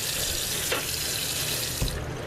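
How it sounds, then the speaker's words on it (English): Running water from a kitchen faucet pours steadily into the sink while a tray is washed with dish soap, a constant close splashing hiss broken by a couple of soft knocks against the tray. "I put it in the sink and I just wash it with Dawn soap."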